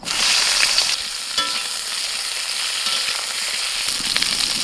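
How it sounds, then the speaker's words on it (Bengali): Brinjal pieces sizzle in hot oil with a continuous bright crackle, punctuated by a few utensil scrapes and stirs; close and fairly loud, with no one talking. "এবার বেগুন ভেজে নেব"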